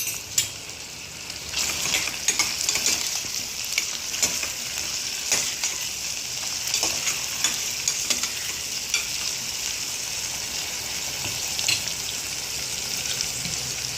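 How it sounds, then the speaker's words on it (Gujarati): Ginger-chili paste sizzles in hot oil during the tempering for Gujarati-style vaghareli khichdi. A bright, continuous hiss runs throughout, close and fairly loud, with scattered clicks and scrapes of stirring and no talking. "હવે આપણે એમાં ઉમેરીશું આદુ મરચાંની પેસ્ટ."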